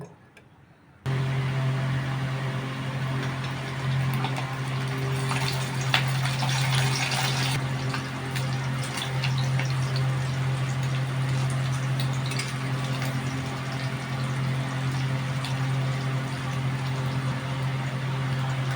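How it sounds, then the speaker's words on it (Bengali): Steamed egg shallow-frying in a little oil in a wok, a steady close sizzling hiss running continuously after a brief quiet start, with a low hum underneath. "ডিমটা ভাজা হয়ে গেছে হালকা করে ভেজেছি"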